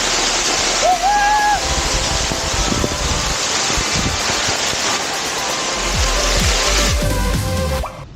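Jalagamparai waterfall near Yelagiri, a steady, close rushing roar of falling water filling the whole stretch, with a brief whistle-like call near the start.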